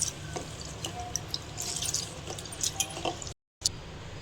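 Rice and lentils for vegetable khichdi are washed by hand in water: soft, quiet splashes and drips come in irregular bursts, broken by a brief moment of silence near the end.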